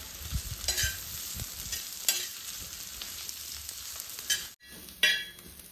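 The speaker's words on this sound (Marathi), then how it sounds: "कांदा आपल्याला तेलामध्ये लाल थोडासा सोनेरी कलर होईपर्यंत मऊ भाजून घ्यायचा आहे।" Onion fries in oil in a pan over a wood-fired chulha, a continuous close sizzle with repeated scraping strokes of a spoon and a brief pause near the end before the sizzling returns.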